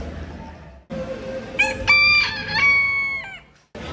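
A chicken at the Chilliwack Exhibition calls close by in a few drawn-out, strained notes, breaking off between calls.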